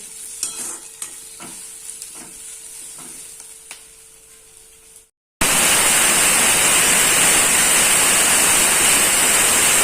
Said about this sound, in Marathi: आता याच्यामध्ये आपण थोडेसे अख्खे धने टाकून घेऊ, यांना पण व्यवस्थित परतून घेऊ।